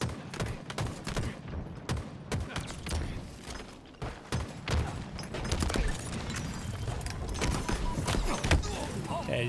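A player's own grenade explodes on him in Halo, amid steady bursts of gunfire and repeated sharp booms from the game, loud and busy throughout, with no talking.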